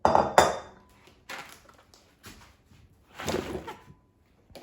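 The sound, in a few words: potato pieces being put into a bowl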